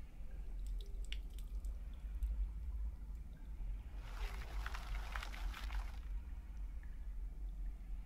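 Water poured onto loosened soil in the video game Excavation of Hob's Barrow: a few faint drips, then a short, brighter splash of pouring lasting about two seconds over a low steady hum.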